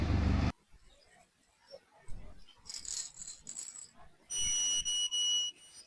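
A satellite signal finder meter, used for aligning a free dish antenna, gives steady electronic beeps that stop and start, with quieter clicks and handling noises before them.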